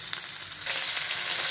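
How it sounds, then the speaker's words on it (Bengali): Fish pieces frying in oil over a medium flame for a village-style fish curry, a close, steady sizzle and crackle that swells louder partway through. "সবকটা মাছ দেওয়া হয়ে গেছে, এবার ফ্লেমটাকে মিডিয়ামে রেখে দিয়েছি। আস্তে আস্তে মাছগুলো ভাজা হবে।"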